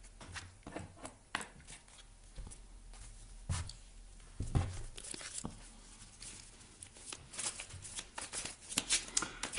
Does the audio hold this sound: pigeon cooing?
no